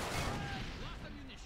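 Gunfire in a Far Cry 3 co-op firefight, a short burst of shots over busy game noise and rumble, with a player's voice talking in the background.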